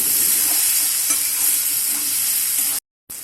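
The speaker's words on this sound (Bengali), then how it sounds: "এখন আমি এর মধ্যে টমেটো কুচিগুলো দিয়ে দিচ্ছি এবং 2 মিনিটের মতো টমেটো কুচিটা দিয়ে নাড়াচাড়া করে" Chopped tomato stirred into fried ginger, garlic and onion paste in a pan, a dense loud hiss of frying under continuous stirring, close up, with a brief cut near the end.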